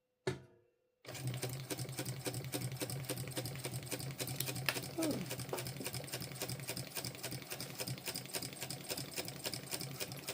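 A sewing machine back stitches the lining of a bum bag, a rapid steady mechanical chatter running close and alone after a brief pause, with a short squeak partway through.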